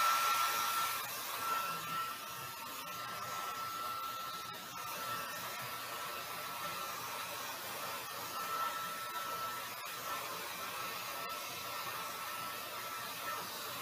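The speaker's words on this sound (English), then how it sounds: "I'm just gonna hit it with the dryer" A steady, broad whooshing roar of a hair dryer runs continuously at close range, with a few faint clicks and handling noises over it.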